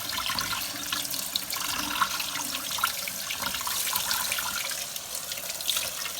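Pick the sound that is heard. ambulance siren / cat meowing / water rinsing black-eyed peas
water rinsing black-eyed peas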